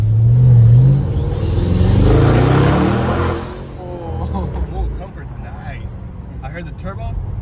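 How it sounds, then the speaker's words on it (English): An Audi RS7 launches hard with a loud, deep engine roar and turbo whoosh that fades quickly after a few seconds, leaving quieter road and wind noise; a person talks briefly. "I heard the turbo, no gnarly backfires."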